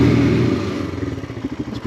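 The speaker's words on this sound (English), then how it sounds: "One more engine rev" A Royal Enfield Himalayan on its stock exhaust gives a loud engine rev, then drops into a rhythmic, chugging single-cylinder thump as it settles back toward idle.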